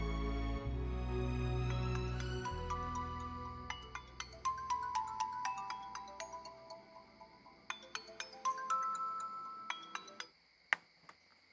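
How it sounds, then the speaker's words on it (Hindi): A phone ringtone for an incoming call in a Hindi drama episode, a melodic electronic chime of repeated tinkling notes over a low background, fairly faint, playing alone for about eleven seconds. "हाँ निम्मी, अच्छा हुआ तुमने फोन कर दिया, वरना मैं तुम्हें फोन करने ही वाली थी।"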